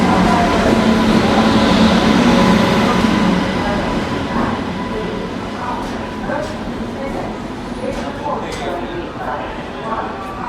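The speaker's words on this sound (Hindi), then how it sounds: "ये आ गई अपनी थिरुकुरल एक्सप्रेस, ट्रेन नंबर" Thirukkural Express, train number 12641, pulls into a station platform with a steady rolling rumble and squealing metallic tones, loud and close at first and easing slightly, with a voice speaking over it.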